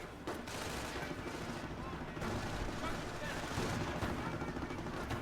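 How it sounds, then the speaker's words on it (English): Machine gun fire in a tactical video game match, sustained dense bursts of gunfire and explosions at a steady loud level, with commentary talk running over it. "I'm getting pinned by my own MG."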